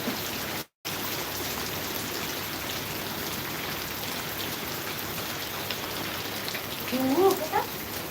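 Steady rain pours down across the whole clip, a dense hiss of drops with a brief dropout near the start and a few faint tones near the end.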